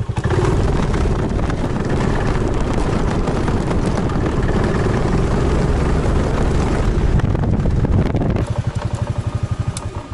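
Motorcycle engine droning steadily and loud up a mountain road at night in Bulgaria, close and continuous, then settling into a lower, pulsing idle near the end.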